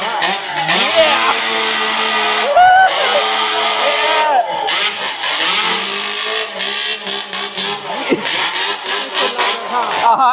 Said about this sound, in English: These saws are super loud and super powered and come with a lot of noise.